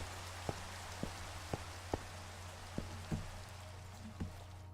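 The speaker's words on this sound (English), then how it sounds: "we can still hear that it's raining, especially when we go over into the rainy areas" Rain falls steadily in the video game Minecraft, a faint, even patter with a few soft distinct drips scattered through it and no talk.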